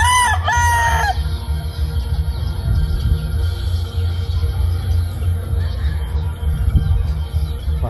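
Fighting roosters at a bus terminal in Davao City, Philippines, crow loudly at the start with a quick wavering call, then fall back under a constant low hum and distant background noise.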